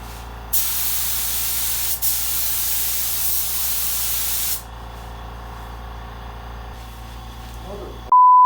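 A spray gun fed by a pancake compressor hisses out metal flake paint on a custom Harley in one long, loud, steady burst, then cuts off, leaving a low compressor hum and a brief beep at the end.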